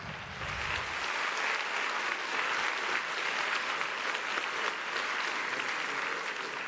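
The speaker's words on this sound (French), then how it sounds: "Oui, vous pouvez l'applaudir." Party congress audience in Perpignan bursting into sustained, even applause that swells within the first second and holds steady and loud throughout, with no voices over it.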